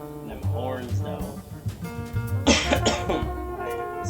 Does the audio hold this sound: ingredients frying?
no